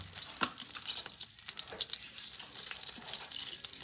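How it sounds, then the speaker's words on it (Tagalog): Sardines and egg sautéing in butter in a pan, with a steady crackling sizzle and occasional stirring scrapes, close and moderately loud, with no one talking. "Sardinas at itlog sa butter tingnan mo Tapos magisa tayo nito ngayon"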